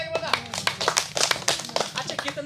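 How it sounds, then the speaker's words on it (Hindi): An audience claps together in a quick, dense burst of hand claps at a talk about health and doctor visits, with clear sharp slaps close by and speech running over the applause. "एक बार ताली बजाइए।"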